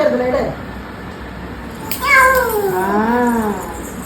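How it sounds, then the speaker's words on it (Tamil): A cat gives a couple of drawn-out, rising and falling meows up close, after a quieter stretch of background murmur. "கேட் கேட் எங்க gate gate meow meow meow"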